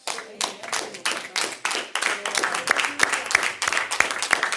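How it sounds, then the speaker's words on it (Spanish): Steady, energetic clapping from a church congregation, dense and close, swelling into rhythmic applause with a few voices audible among the hands. "Dale fuerte el aplauso"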